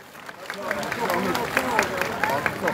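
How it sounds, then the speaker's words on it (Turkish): Audience applause for students receiving medals at a ceremony during the Tekirdağ traditional highland festival, with scattered claps and crowd murmur building into a steady patter under voices. "Onlara kocaman bir alkış rica ediyorum"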